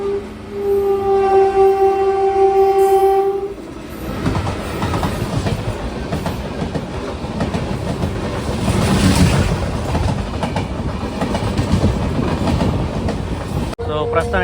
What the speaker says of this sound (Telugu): సో ప్రస్తుతానికి అయితే మనమైతే అరుణాచలం అయితే బయలుదేరుకున్నాం, అది కూడా మెమో ట్రైన్లో అయితే